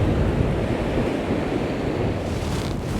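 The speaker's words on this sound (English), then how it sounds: "leaving that lovely bit of surf there" Surf breaks along the Bristol Channel shore as the wind drops, a steady hissing wash of waves with light wind noise on the microphone, no voices.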